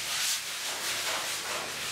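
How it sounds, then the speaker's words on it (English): A dual-grit sanding sponge lightly rubs across a skim-coated drywall surface, producing a soft, steady scratchy hiss in gentle back-and-forth strokes, close and fairly quiet. "this is a dual grit sanding sponge, medium on one side and fine on the other"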